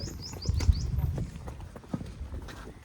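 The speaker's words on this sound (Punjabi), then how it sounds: "ਮੱਝਾਂ ਛੱਡ ਲਈਆਂ ਚਰਾਉਣ ਵਾਸਤੇ" Buffaloes' hooves clop irregularly on hard ground as they walk out to graze, with scattered thuds and faint chirps in the background.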